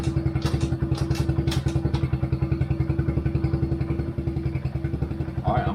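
A 2020 Kawasaki KLX110R dirt bike engine runs steadily with a close, loud, throbbing exhaust, working up through its four gears with occasional clatter and small thumps.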